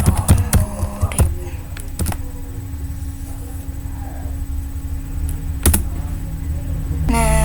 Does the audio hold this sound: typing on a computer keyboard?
yes